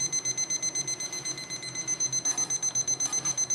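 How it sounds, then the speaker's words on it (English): An alarm gives a rapid, evenly spaced run of beeps, several per second, faint and continuous, during an alcohol stove test. "Kind of an annoying beeping there."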